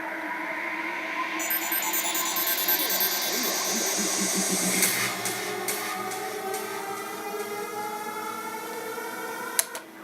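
In an electronic track, a dense synth riser swells in a sustained build-up, with a shimmering noisy wash and pulsing texture that intensifies midway and ends on a sharp hit.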